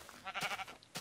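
A sheep in the Minecraft video game bleats once in a short, wavering, nasal cry that is close and clear, followed by a brief sharp click.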